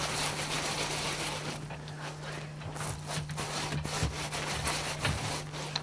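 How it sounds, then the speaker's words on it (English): Plaster is rubbed by hand onto a straw bale wall, giving close, continuous scratchy scraping and rustling strokes with a faint steady hum behind. "I'm just taking a little bit at a time and rubbing it in and squashing the straw down."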